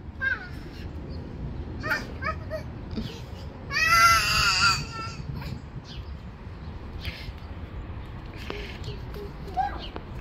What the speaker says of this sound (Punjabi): ਕਿੱਥੇ ਵੇ ਕਾਂ